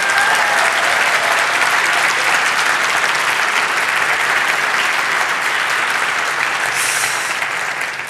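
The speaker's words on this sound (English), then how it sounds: "can we just have a round of applause, please, for Hannah?" A ceremony audience at a university chancellor's installation claps for Hannah, a broad sustained wash of many hands filling the whole stretch and easing very slightly toward the end.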